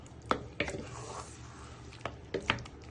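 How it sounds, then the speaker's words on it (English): A wooden spoon scrapes and knocks through a chicken balti curry in a pan, giving a few distinct wet taps and clacks spread unevenly over a soft, steady background, close up with no talking. "So just give them all a good stir and just break them down with your"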